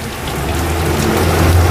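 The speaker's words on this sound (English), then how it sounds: "You can see the rain is really pouring" Heavy rain pours down during a severe thunderstorm in Westbury, a dense, steady roar of drops with a low rumble building underneath, and nobody speaks.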